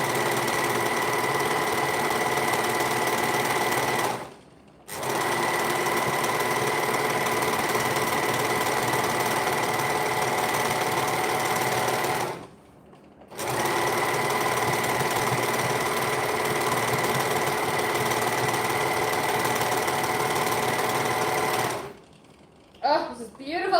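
An overlocker stitching fabric for a birthday tutu, a steady fast mechanical whirring run in three long bursts with short pauses between, close and loud, with no talk over it.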